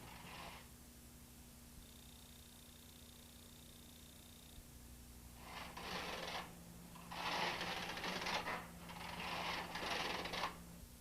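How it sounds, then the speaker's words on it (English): Knitting machine carriage passing back and forth over rows of waste yarn, several distinct swishing, whirring passes of a few seconds each, fairly quiet and close, with no talk. "Thread the carriage with waste yarn and knit 4 rows."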